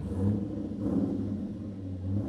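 A 1968 Dodge Charger engine idles with a deep, steady rumble, pulsing slightly as it runs, close and fairly loud with no voices.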